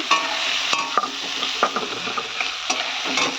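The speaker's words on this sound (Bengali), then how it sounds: "এই যে পেঁয়াজটা এবার ভাজছি।" Onions frying in a pan for a Bengali pepper chicken dish, with a steady close sizzle under repeated scraping stirs of a spatula, no talking.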